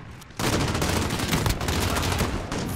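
Gunfire in Modern Warfare (2019): a sudden burst of loud, dense firing that starts abruptly and continues without pause, close and harsh, with no talk over it.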